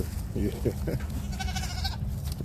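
A young rescue goat on a farm bleats in short wavering cries over a low rumble of background noise, with a person speaking briefly.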